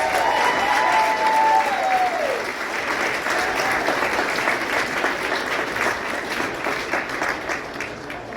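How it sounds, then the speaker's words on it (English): A gala audience in a ballroom claps in sustained, dense applause that fades slightly toward the end, with a brief voice and a rising whistle-like tone near the start. "Now you can applaud, please."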